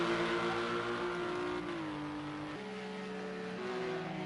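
A black Porsche race car drives in at a racing event, its engine a steady droning whine that shifts pitch in a few distinct steps, moderately close and with no talk.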